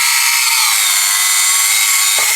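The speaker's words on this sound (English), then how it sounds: "Let's drill some holes in it and see what it's like." A Tamiya electric handy drill bores through 2mm styrene sheet with a steady, loud, high-pitched whine from start to finish, its motor tone shifting slightly and catching in a few rough bursts near the end as the bit bites.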